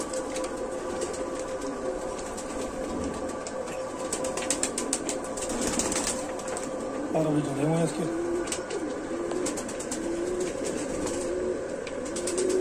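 Rampuri pigeons coo near at hand, with a clear coo rising midway and occasional wing flaps, while someone talks over the birds.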